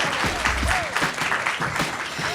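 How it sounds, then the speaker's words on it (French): Audience applauding at a podcast recording, a steady wash of clapping from a modest crowd, with faint voices mixed in. "On peut les applaudir."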